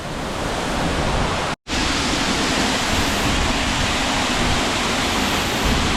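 A waterfall on a hidden trail in Washington roars as a dense, loud, steady rush of falling water, broken only by one instant dropout.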